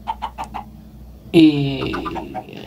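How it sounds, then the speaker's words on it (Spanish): A few short, clipped clucks from a Minecraft chicken sound in quick succession, followed by a louder burst of other game sounds. "cacareo de gallina"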